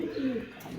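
A male pigeon, a red racing bird with a white head, gives a short, close, low coo lasting under a second, alone without talk.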